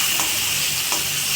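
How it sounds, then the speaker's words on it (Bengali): Sliced onions stirred in hot oil in a pan tempered with bay leaf and black cumin for a carp curry; a steady, close sizzling hiss with a couple of soft scrapes from a spatula. "এখন পেঁয়াজগুলোকে নাড়াচাড়া করে একটু ভেজে নেব"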